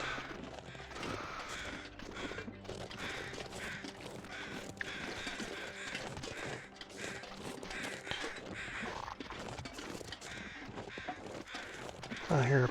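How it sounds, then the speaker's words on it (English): Crows caw repeatedly in the outdoor wilderness of The Long Dark survival game, harsh calls scattered over a busy, steady background. "I hear birds."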